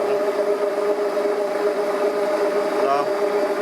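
Electric motor running at a steady, unbraked speed while driving a generator in a no-braking test rig, a constant whirring hum with tonal whine, continuous and fairly loud.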